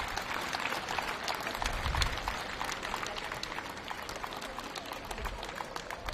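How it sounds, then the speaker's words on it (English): Spectators applaud at a junior karting race ceremony in round 6 of the Champions of the Future Academy series, giving a steady, moderately loud round of clapping from an outdoor crowd. "Ladies and gentlemen, one final big round of applause for OKN Junior."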